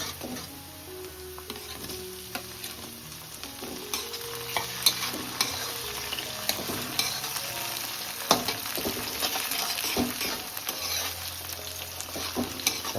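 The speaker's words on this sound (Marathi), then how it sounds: "टॅमॅटो पण मस्त आता मऊ पडून पर्यंत आपल्याला फ्राय करायचं आहे" Chopped tomatoes frying with golden-browned onions in a pan, a steady close sizzle broken by frequent scrapes and knocks of the stirring spoon, with no talking.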